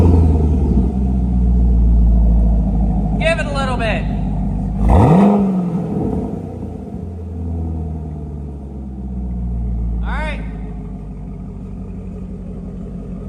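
A Chevrolet Corvette C7 fitted with a new exhaust starts up for the first time, its engine cranking and catching into a deep rumble, then idling with a few sharp revs, while people talk briefly nearby.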